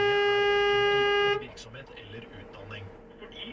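A car horn blares in one long, loud steady blast, warning an oncoming truck on a roadside where children are crossing, then cuts off abruptly to leave road noise and voices.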